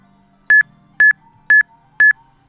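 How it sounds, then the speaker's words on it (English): Loud, identical electronic beeps from Pokemon games played side by side during a shiny Unown hunt, five evenly spaced chirps about half a second apart, with faint game tones humming underneath. "We got Chopin and Stax's beeps at the same time."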